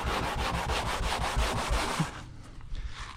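Old binder being scrubbed with Comet cleanser, a quick run of rhythmic back-and-forth rubbing strokes, close and gritty, that stops abruptly after about two seconds and leaves faint scattered scuffs.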